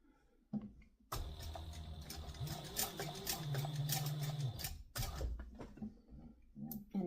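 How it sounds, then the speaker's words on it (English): Sewing machine stitching a webbing strap with faux leather ends close to the edge, a steady mechanical whir running for several seconds at close range, starting and stopping with brief pauses. "want to sew as close to the edge without running off"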